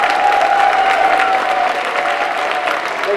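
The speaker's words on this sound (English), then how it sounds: "Everyone give Mr. Boll a round of applause." A convention audience at a gaming event's Q&A panel breaks into sustained applause, a steady dense wash of clapping throughout, with a faint voice underneath.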